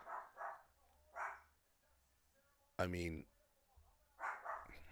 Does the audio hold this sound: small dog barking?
yes